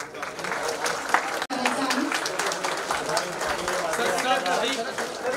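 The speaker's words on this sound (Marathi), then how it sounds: "जोरदार टाळ्या" Loud, sustained applause fills a hall during an official unveiling ceremony in Thane with Maharashtra's deputy chief minister, dense clapping from many hands continuing steadily with one brief cut partway through.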